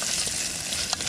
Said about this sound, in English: this is kind of stir fry